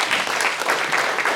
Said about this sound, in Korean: 우리 목사님 큰 박수로 맞이하도록 하겠습니다